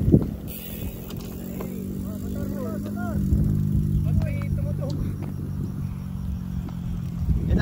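A motorcycle passes along a mountain road in the Sierra Madre near Pililia, Rizal, its engine a steady low drone that swells and fades under continuous wind noise, with brief voices heard over it.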